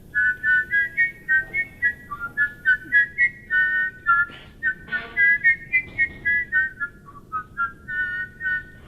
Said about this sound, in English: I heard you doing a two-tone whistling.